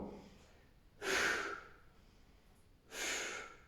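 Two strong, breathy exhalations during a glute bridge home workout, each about half a second long and spaced roughly two seconds apart, heard close and on their own with no talk.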